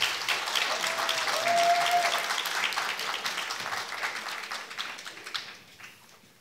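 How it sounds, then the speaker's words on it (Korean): A seated audience at an addiction-recovery policy forum gives warm applause for four panel discussion participants, a thick wash of clapping that gradually thins and fades out over several seconds. "일단 패널 토론에 나와주신 네 분께 따뜻한 격려의 박수를 부탁드립니다."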